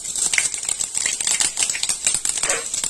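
Panch phoron spices crackle and sizzle in hot oil for a mango chutney, a steady dense hiss with rapid tiny pops from start to finish, close and fairly loud.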